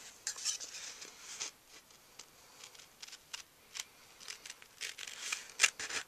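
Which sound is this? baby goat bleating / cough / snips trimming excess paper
snips trimming excess paper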